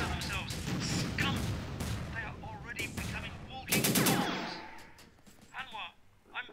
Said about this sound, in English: We're gonna bring in some unguided missiles.